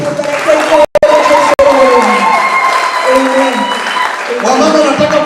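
Congregation at a bishop's ordination ceremony applauding and cheering loudly, dense clapping with high ululating trills above a steady crowd roar, broken by two brief near-silent gaps.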